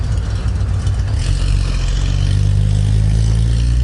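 A classic Porsche engine, smelling of burnt oil and in poor condition, runs loud and close with a deep, continuous rumble that swells slightly as it revs, with no voices.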